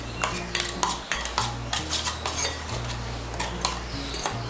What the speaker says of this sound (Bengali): এখন এর মধ্যে আমি দিয়ে দেব 1 বড় চামচ কাঁচা সর্ষের তেল। তেলটাকে ভালো করে মিশিয়ে নেব।